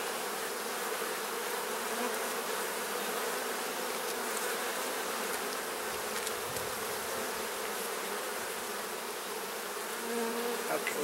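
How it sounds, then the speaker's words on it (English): Honey bees swarming around an open hive during a hive split, a dense continuous buzz of many insects close by, with individual bees droning past the microphone. "just waiting for the bees to give me some room to work"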